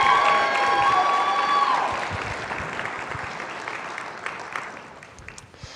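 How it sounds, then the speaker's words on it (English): A graduation audience applauds with scattered cheers. Loud clapping with a brief whistle-like tone opens the clip, then the applause slowly fades and thins out. "Let's give another round of applause."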